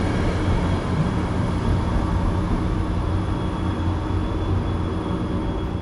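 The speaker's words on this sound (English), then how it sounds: "catch 6862 departing towards Danbury, and was rewarded with a cool engineer giving some extra horn toots" Train 6862 departs Merritt 7 toward Danbury with a steady, close, broadband rail rumble that holds at an even level throughout.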